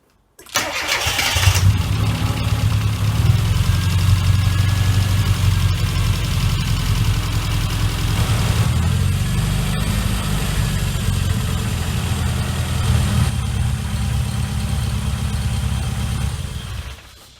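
A MINI John Cooper Works engine cranks and catches near the start, then settles into a steady, loud, low idle that runs unbroken to the end, with no voices.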